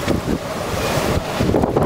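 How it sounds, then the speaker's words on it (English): Strong blizzard wind gusts across a street in Togiak, Alaska, roaring and buffeting the microphone in loud, continuous surges with no talk. "this wind that's blowing right here is blowing across the street and creating a drift"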